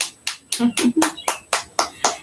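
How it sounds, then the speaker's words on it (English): Several separate hand claps from an exercise workout session, about eight distinct sharp claps in a loose, uneven rhythm, close and crisp, with a brief voiced sound mixed in partway through. "Give yourself a hand clap."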